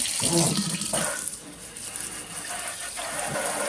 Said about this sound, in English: And I'm rinsing it with really, really hot water.